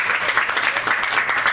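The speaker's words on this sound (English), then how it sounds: "round of applause to your tutor" A graduation crowd applauds a tutor, a short burst of continuous, fairly loud clapping from many hands with no gaps.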